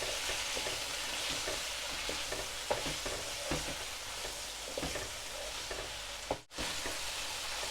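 Chicken pieces sizzle in oil with garlic ginger paste, a pan dish in the style of a restaurant karahi. Repeated scraping stir strokes run over a constant frying hiss, with a brief sudden drop near the end.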